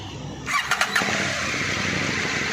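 A big bike motorcycle engine cranks with a brief starter whir and a few sharp catches, then settles into a steady, close idle hum, with no one talking.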